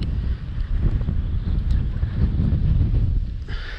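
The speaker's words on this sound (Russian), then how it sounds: "Посмотрим, как она работает в сильный ветер." Strong northerly wind buffets a camera microphone fitted with a windscreen, a loud continuous rumbling roar that fills the whole recording, at a lakeside fishing spot.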